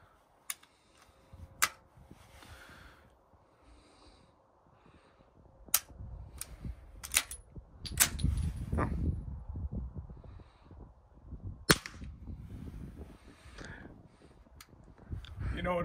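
Suppressed gunshots from a Yankee Hill R9 firing Norma 158 grain subsonic rounds outdoors, several sharp muted cracks spaced irregularly, with talk and wind rumble in between.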